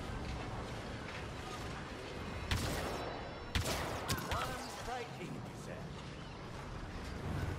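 Blaster fire rattles in Star Wars Battlefront 2, a burst of loud sharp shots with whirring mechanical noise, set against an ongoing game soundscape with voices talking.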